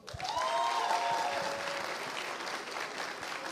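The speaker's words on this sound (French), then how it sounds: "et applaudissez-vous." A hall full of people applauds at a master's degree graduation ceremony: a dense, loud, even wash of clapping that starts at once and keeps going steadily throughout.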